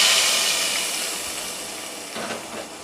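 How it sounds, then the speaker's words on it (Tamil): Mustard seeds and curry leaves sizzle in hot oil while sambar is tempered in a home kitchen, a loud steady hissing crackle that slowly fades, with a brief burst of extra spitting near the end. "இப்போ சாம்பாரை கடுகு கருவேப்பிலை போட்டு தாளிச்சிக்கணும்."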